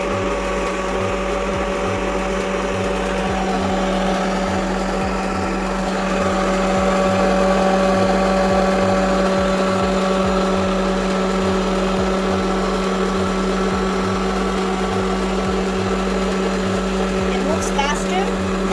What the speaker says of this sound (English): Now I'm gonna try the 12DC motor, see if it sucks in more and if it's faster